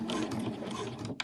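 A sewing machine runs a short back-stitch on a piped cushion cover, a steady close mechanical whirr of needle and feed that stops abruptly near the end with a small clunk.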